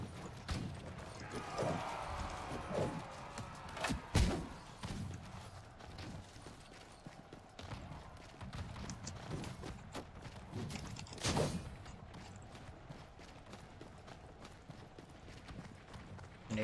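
Horse hooves beat steadily in a medieval battle video game, a soft, continuous clip-clop at moderate distance with occasional heavier thumps, fairly faint under ambient game sound.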